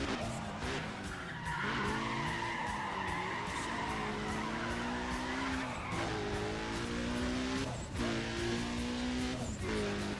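Car tires skid and squeal in a racing video game as a low-grip car slides through corners, a steady engine drone underneath with repeated rising screeches and brief ticks, loud and continuous throughout.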